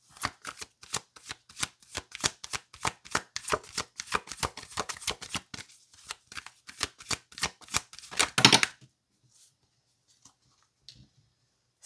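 Tarot cards are riffle-shuffled and snapped together in quick, crisp bursts close up, a rapid run of papery flicks ending in a final bridge-like flutter, then near silence.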